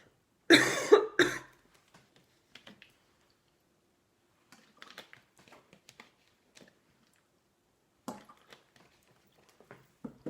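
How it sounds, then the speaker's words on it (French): Two sharp coughs close to the microphone, then quiet with small scattered clicks and rustles. "je tousse un peu en ce moment"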